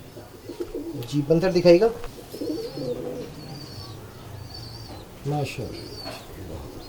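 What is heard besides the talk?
Kamagar pigeons cooing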